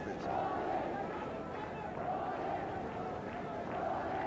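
A cricket stadium crowd at the 1994 Austral-Asia Cup semi-final between Pakistan and New Zealand, with a steady, rhythmic mass of voices chanting in waves, distant and continuous, under commentary-like talk.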